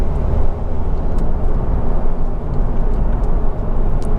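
A Honda Civic 2.2 Ci-T diesel hatchback driving on a road, heard from inside as a steady, fairly loud low rumble of engine and road noise with no talking.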